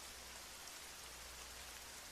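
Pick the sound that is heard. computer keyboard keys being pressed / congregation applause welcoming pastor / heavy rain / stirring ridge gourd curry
heavy rain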